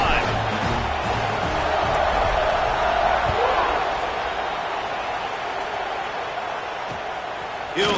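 Stadium crowd noise from College Football 26 during a kickoff after a touchdown drive, a steady roar of cheering that holds for the whole stretch with faint commentary-like voices mixed in.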